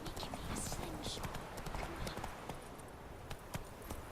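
Horse hooves clip-clopping at a brisk riding pace in the video game The Witcher 3: Wild Hunt, a steady rhythmic patter amid outdoor ambience, with a voice speaking over it.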